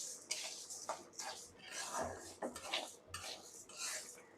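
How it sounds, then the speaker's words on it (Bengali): Lentils are fried and stirred in a pan in a home kitchen, with a utensil scraping and clinking against the metal in uneven bursts. Soft voice sounds come in now and then. "এদিকে এই ডালটা ভেজে নেবো"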